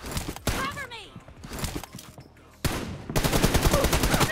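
Video game gunfire in loud rapid bursts, with a long sustained automatic volley filling the final stretch, mixed with excited talking from players.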